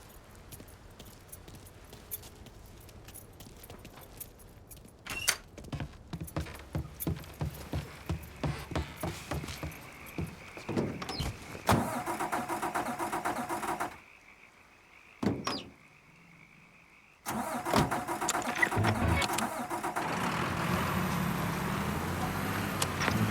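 In Mafia III, car keys rattle in a quick series of metallic clicks, then after a brief silence a car engine fires up and settles into a loud, sustained running rumble.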